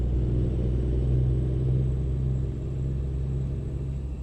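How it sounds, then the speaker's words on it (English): Truck engine in Euro Truck Simulator 2, a steady low rumbling drone with a slight clacking character, loud and continuous with no talking. "Sound of this truck sounds like it's a jeepney from the Philippines. It does have a bit of a clack sound to it."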